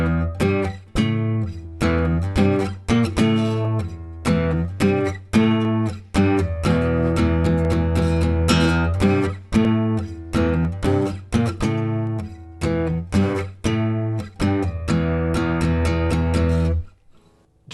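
Electric guitar plays a riff in octaves, a loud, steady run of rhythmic picked notes with short pauses between phrases, heard alone with no talking.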